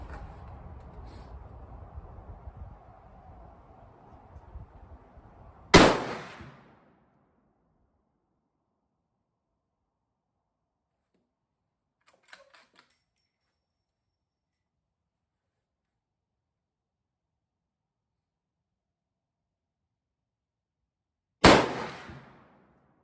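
A Ruger American rifle in .450 Bushmaster with a weighted stock fires at an outdoor range while being sighted in: two loud, isolated booming shots about fifteen seconds apart, in quiet after some earlier handling noise.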